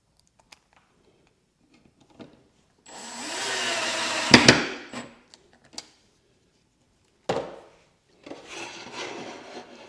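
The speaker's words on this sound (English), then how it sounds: "we'll just put a couple of little screws in there." Small screws driven into wood with a drill through a Kreg concealed hinge jig, two loud whirring bursts of driving separated by short quiet gaps and a few sharp clicks, close by with no talk.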